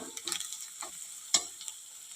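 Asafoetida is stirred into a golden onion-garlic tempering, with soft sizzling under a few quick spatula scrapes and one sharper clack, faint and close with no talking.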